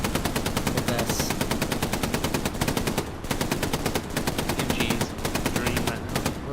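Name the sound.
machine gun fire in the video game Hell Let Loose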